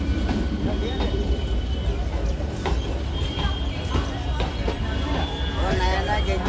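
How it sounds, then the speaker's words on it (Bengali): A steady, loud rumble of a train passing through a railway station with rattling carriages fills the scene, and people's voices can be heard faintly beneath it. "ট্রেনও যাচ্ছে দেখো"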